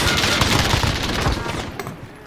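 Rapid gunfire in a Call of Duty match, a loud, close burst of fast overlapping shots that fills most of the moment before easing off into a few scattered cracks near the end.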